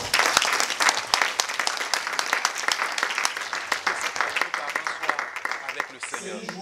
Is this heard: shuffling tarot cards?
no